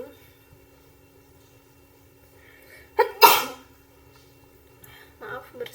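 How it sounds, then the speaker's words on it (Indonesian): A single sharp sneeze bursts out near the mic during a quiet indoor spell, with a rainy day outside, followed a couple of seconds later by a brief vocal sound. "Maaf bersin"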